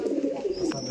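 Pigeons at a pigeon farm coo in a low, close, throaty burst, briefly and alone.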